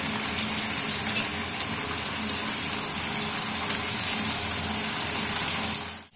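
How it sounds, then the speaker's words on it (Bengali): Pieces of lote (Bombay duck) fish fry two at a time in hot oil, giving a dense, continuous sizzle close by, steady throughout and cutting off at the very end. "আমি দুটো দুটো করেই ভাজছি।"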